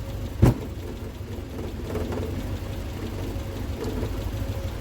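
Triumph Spitfire engine started on the key after fitting electronic ignition, a short cranking burst up front then a steady low idle that carries on evenly to the end.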